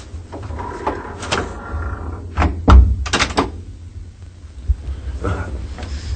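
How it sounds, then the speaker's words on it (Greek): A door shuts with a few sharp wooden thuds and bangs in a quiet room, followed by faint lighter knocks and handling sounds. "Σε κλείσε την πόρτα."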